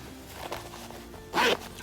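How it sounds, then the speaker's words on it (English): A zipper on a Chanel velvet red cosmetic bag is pulled open in one quick close rasp near the end, after a few quieter handling rustles. "But it only have one zipper, so maybe if you fill it with small stuff, you just have to open it"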